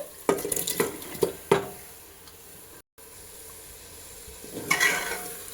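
Cooked mutton is stirred into biryani masala in a pot, with a few scraping clinks of a spoon against the pot, soft sizzling underneath and another stirring scrape near the end, fairly quiet and close.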